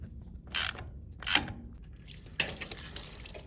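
A temperature sensor with Teflon-taped threads is tightened into the engine of an old Ford 8N-series tractor: three separate bursts of close metallic ratcheting and scraping, each brief and fairly loud, with quiet pauses between and no talking.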